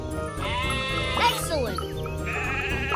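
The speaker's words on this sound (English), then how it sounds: "Sheep have wandered onto the tracks." Cartoonish sheep bleat in a children's train video game, several wavering calls over continuous cheerful music and sound effects.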